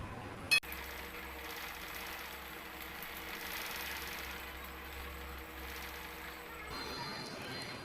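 A Ranew embroidery machine stitching a leaf design runs with a steady, close mechanical hum and rapid needle vibration, opening with one sharp click and continuing unbroken until it winds down near the end.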